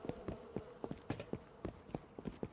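Bees in the video game Rust buzzing near the player, a faint, low drone broken by a regular run of short, sharp thumps like footsteps passing close by.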